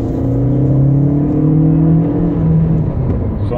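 An Opel Astra 1.4 T petrol car accelerates hard under throttle during a 0–100 km/h run, its engine drone loud and close, pitch climbing steadily through the gears with a smooth, continuous rumble.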